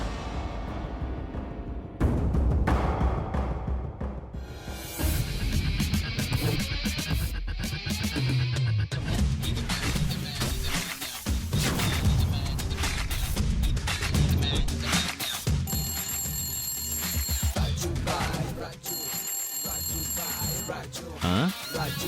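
A telephone bell rings repeatedly in a TV serial scene, sharp electronic trills recurring in bursts over a busy bed of dramatic music and crashing effects.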